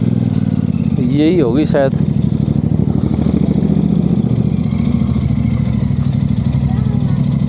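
A motorbike engine idles close by with a rapid, steady low chugging throughout, while people talk over it and a brief high squeal cuts in early on.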